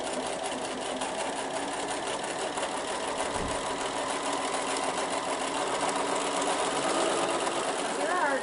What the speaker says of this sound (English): we're going to sew again from corner to corner on that line that we marked